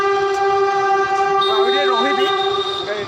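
A train's horn blows a loud, sustained, steady chord for the whole stretch, with a few wavering higher tones joining midway, as a train passes during a sudden spell of stormy weather just after rain.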